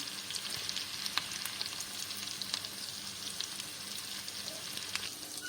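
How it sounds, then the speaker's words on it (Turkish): Steady close sizzling of meatballs frying in butter in a pan, with scattered pops and crackles throughout and no voices. "Şöyle köftelerimi kızartıyorum"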